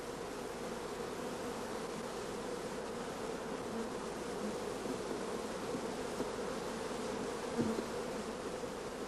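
Honey bees buzzing steadily over brood frames packed with young nurse bees and open larvae, a dense, continuous close-up hum filling the whole stretch with no other sounds.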